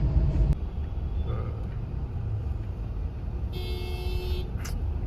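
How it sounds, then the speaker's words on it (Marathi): Road traffic rumbling steadily nearby, with a car horn honking for about a second toward the end and a short knock at the start. "ट्रॅफिक बघा."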